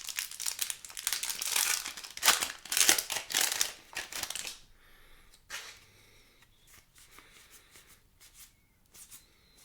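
A foil booster pack wrapper for Magic: The Gathering's Lost Caverns of Ixalan collector box tears and crinkles up close: loud crumpling bursts for about four seconds, then fainter, scattered rustles as the pack is opened.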